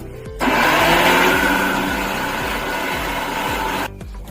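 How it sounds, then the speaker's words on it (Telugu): A mixer grinder whirs loudly and steadily for a few seconds while grinding masala into a paste, starting and stopping abruptly, close by with no talking. "మిక్సీ చేసి పేస్ట్ లాగా చేయాలి"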